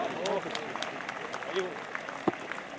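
Scattered audience clapping at a UP Police passing-out parade ceremony, a light steady patter of applause under an amplified announcer's voice.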